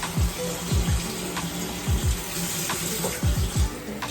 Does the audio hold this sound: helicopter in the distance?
no